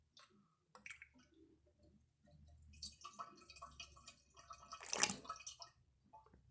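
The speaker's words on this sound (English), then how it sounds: "Now I'll do a bucket flush." A bucket of water is dumped into a mini 3D-printed toilet, which flushes with a rising rush and splash that peaks into a loud gurgling surge before trailing off into a few faint drips.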